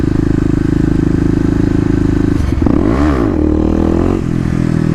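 A Kawasaki KLX250 dirt bike drones at steady revs, then blips and surges as the rider pops the front wheel up for a wheelie, the engine note rising and dipping close to the microphone.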